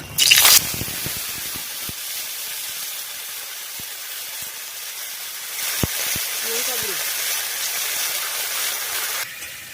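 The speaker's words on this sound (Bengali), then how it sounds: "আর সেই তেলে শুকনো লঙ্কা দেব এলাচ আদা বাটা হলুদ" Dried chillies, cardamom, ginger paste and turmeric hit hot oil with a sharp burst of sizzle, followed by a steady, soft frying hiss with occasional clinks of utensils and some background speech.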